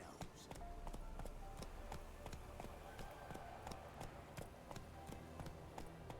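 A horse gallops in The Witcher 3, its hooves striking in a quick, regular rhythm of sharp thuds over a low rumble. A voice talks faintly underneath.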